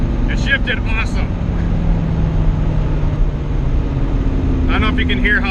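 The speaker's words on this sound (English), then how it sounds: "I don't know if you can hear how fast that 2-3 shift was, but it felt great" A car with a TH400 automatic transmission and a modified valve body accelerates on the street, its engine drone climbing and then dropping pitch through a quick 2-3 upshift, heard from inside the cabin with brief speech at the start and end.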